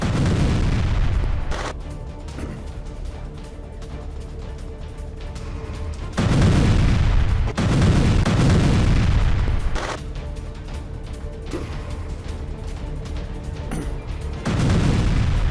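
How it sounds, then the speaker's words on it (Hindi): Bombing in an Israel–Hamas war zone: heavy, rumbling booms and blasts recur in loud surges several seconds apart, with a dense noisy roar between them. "बमबारी के बाद पूरे इलाके में फैला है धुआं।"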